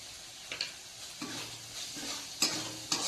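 Chowmein stir-fried with spices in a pan: a steady sizzle of frying broken by a few scraping stirs of a utensil against the metal, close and clear with no talking.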